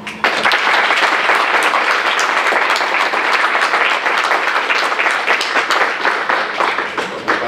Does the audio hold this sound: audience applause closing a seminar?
yes